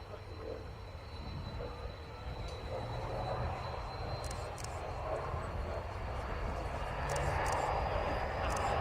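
A Hawker Sea Fury piston-engined fighter flies past at an air day display, its engine a faint, distant drone that swells slowly over several seconds, with crowd sounds faintly underneath.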